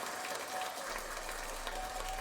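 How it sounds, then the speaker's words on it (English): A podcast audience keeps up long, dense applause, a steady wash of many hands clapping from a moderate distance without a break. "It's a long clap."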